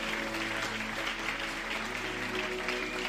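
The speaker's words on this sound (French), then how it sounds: "Est-ce que tu peux acclamer les Seigneurs?" A church congregation at a Sunday service claps and cheers together, steady dense applause filling the whole moment without pause.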